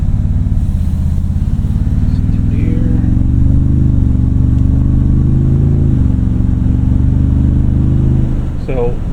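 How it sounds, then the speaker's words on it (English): A 2025 Toyota Tundra TRD Pro engine drones low and loud from inside the cab, holding a steady throaty pull that rises slightly as the truck gathers speed, with a short clunk near the end. "So torque, the power in this engine is really good. Gets up to speed so easily."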